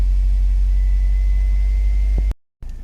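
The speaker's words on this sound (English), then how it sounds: "I can definitely confirm that my exhaust has been healed now" A Toyota MR2 with a repaired, quiet exhaust idles in a steady, low, smooth drone that cuts out briefly near the end and then resumes. There is no talking.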